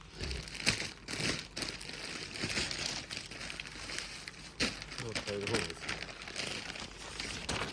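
Crinkly plastic packaging rustles and crackles in repeated bursts as a pure cotton party suit is unwrapped nearby, with someone talking throughout.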